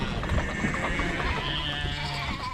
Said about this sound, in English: Aida, one of my ewes, got in there with the boys.